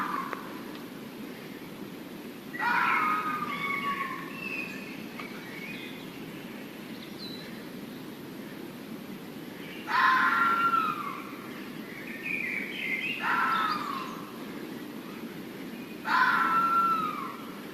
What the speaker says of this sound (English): Or you might hear a red fox screaming.